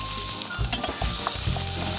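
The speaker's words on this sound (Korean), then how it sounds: "이렇게 촥 소리가 나야 우리 해산물 요리할 때는 잘 볶아." Garlic sizzles loudly in hot oil in a frying pan while cooking seafood fried rice, a dense continuous hiss with occasional stirring scrapes, close and steady throughout.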